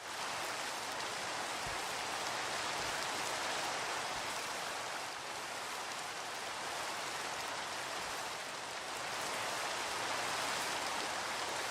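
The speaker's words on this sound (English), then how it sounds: "The rain sounds good." Steady rain falling in Minecraft, a soft, even hiss of droplets with no breaks or thunder, faint and continuous.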